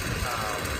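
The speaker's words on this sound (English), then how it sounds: "warming up the weed whacker at the moment" A weed whacker engine warms up outdoors during yard cleanup near an overgrown rock wall, giving a steady buzzing idle drone at moderate level throughout the brief moment.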